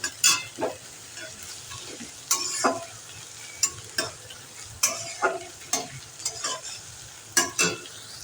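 Whole cumin seeds fry in a pan with a soft sizzle, punctuated by a regular series of sharp spatula scrapes and clanks while stirring.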